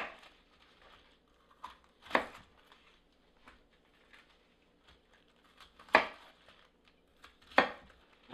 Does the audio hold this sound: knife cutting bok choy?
yes